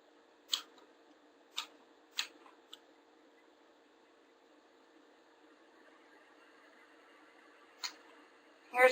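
A brushless DC motor turning slowly at 30 RPM gives a faint, steady whine in a quiet room, broken by a few sharp isolated clicks and a louder rustle at the very end.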